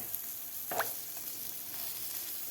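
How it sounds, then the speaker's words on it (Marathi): Capsicum rings filled with egg fry in a hot pan, giving a steady soft sizzle throughout with a brief brighter crackle near the start and no voices. "दोन्ही साईडकडून सुद्धा आपले शिमला मिरची रिंग्स व्यवस्थित फ्राय झालेले आहेत"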